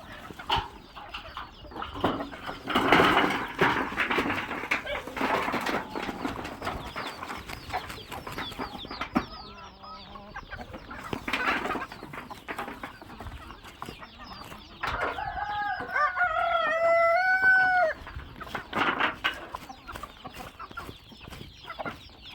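Hens in a poultry yard cluck and a rooster crows in a rising, wavering call, amid scattered flapping and bustle before hydroponic fodder is scattered for them.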